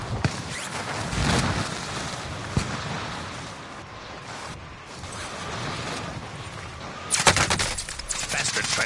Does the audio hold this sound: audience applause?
no